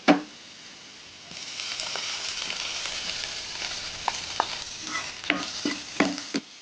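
Kerala-style prawn roast with curry leaves sizzles steadily in a pan, close by, with intermittent scraping and knocking of a spoon as it is stirred.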